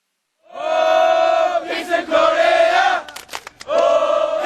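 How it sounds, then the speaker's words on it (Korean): A large crowd roars loudly in unison at the opening of the 40th International Skills Olympics in Calgary, sustained chanting cheers that break briefly into scattered claps before the shouting swells again. "동계올림픽의 도시 캘거리에 대한민국의 함성이 불었습니다."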